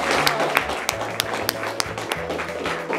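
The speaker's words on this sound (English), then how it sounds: "Big round of applause for Lisa and Laura." Students clap at a school talk on preventing alcohol-related injury in youth, a sparse, scattered applause with distinct individual claps standing out over a low murmur of voices.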